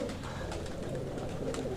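Rampuri pigeons in a large breeding loft giving soft low coos over a steady background murmur, brief and fairly quiet.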